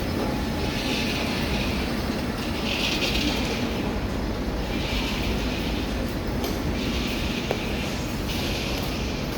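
An Incheon Subway Line 1 train runs with a loud, constant rumble and rushing noise heard from inside, steady throughout with faint periodic swells.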